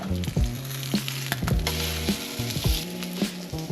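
Trout fillets sizzle in a hot pan, a steady close frying hiss with a few clatters of a utensil on the pan and no voices.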